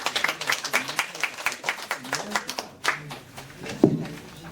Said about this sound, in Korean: 먼저 박수로 환영해 주십시오